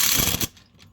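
Impact wrench giving a short, loud burst of rattling hammering while tightening a fastener on a GY6 50cc scooter, lasting about half a second before cutting off to quiet.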